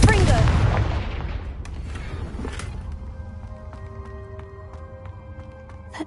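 A Confringo blasting spell bursts in Hogwarts Legacy, a loud explosive boom at the start that rumbles and fades into a lingering game ambience with faint tonal hums.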